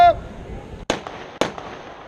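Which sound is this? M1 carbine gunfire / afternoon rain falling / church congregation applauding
M1 carbine gunfire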